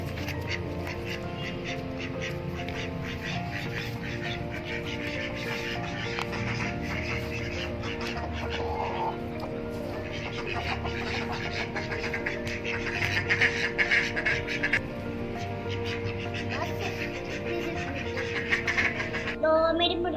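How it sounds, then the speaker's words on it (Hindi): A pet duck quacks repeatedly after being teased, its calls coming and going over a steady background of other farmyard birds, loudest near the end. "अभी देखना मैं अपनी बतख के छेड़ूंगा ना तो वो मेरे पीछे लगेगी"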